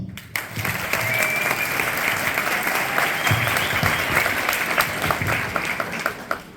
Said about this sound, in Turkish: Öncelikle güzel alkışlarınız için sizlere sonsuz teşekkürlerimizi bir borç biliyoruz